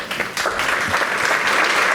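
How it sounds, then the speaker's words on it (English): Audience applause at a tech conference talk, a steady, full wash of many hands clapping that stays loud and even throughout. "A big applause,"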